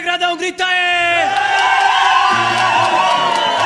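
A large carnival crowd from the Pérola Negra samba school roars and cheers after a shouted call, a loud sustained wall of voices following a brief amplified shout at the start.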